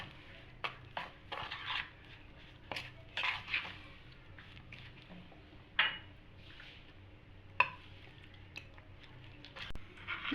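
Batter with two spoons of sour yogurt is stirred in a bowl for apple jalebi, with soft, irregular squishing and the occasional light clink of a spoon against the dish, quiet and close.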